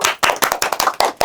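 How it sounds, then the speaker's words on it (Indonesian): Several sharp, rhythmic hand claps from a small audience at a Gen Z talk show taping, about six quick bursts in a little over a second, close and crisp with no talking over them. "Tepuk tangan dulu."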